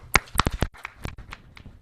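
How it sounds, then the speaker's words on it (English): A short burst of audience clapping for first-year teachers at a school district convocation, a handful of distinct claps that quickly thin out into scattered ones. "Let's give them a big round of applause."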